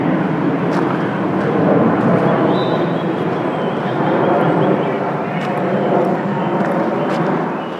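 An airplane passing overhead in the flight path to Philadelphia International Airport, a continuous low roar sustained throughout over an outdoor walk by Hopkins Pond in Haddonfield, with faint voices and small knocks beneath.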